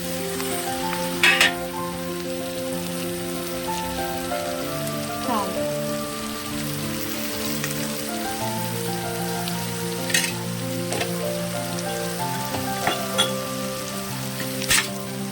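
Tomatoes frying in a pan, a continuous close crackling sizzle with occasional sharp pops and clicks over a low steady hum, no voices.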